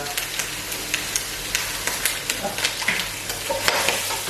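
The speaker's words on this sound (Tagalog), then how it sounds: "lagyan na natin ang ating karne" Meat sizzling and frying in a pan, with a steady hiss broken by repeated sharp scrapes and clatters of stirring, close and fairly loud.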